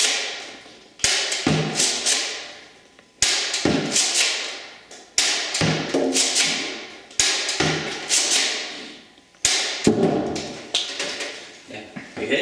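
Nerf Vortex Vigilon disc blaster fired indoors at a far wall: a series of about six sharp snapping shots at uneven intervals, each followed by clattering ricochet taps and a short decaying whir.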